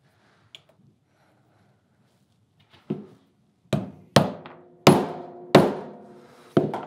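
Hammer striking a rivet setter to set rivets on a leather bag turn lock, with one faint tap followed by five loud, sharp, close blows, each ringing briefly, with no talk.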